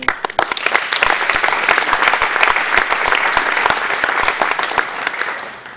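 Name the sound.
audience applause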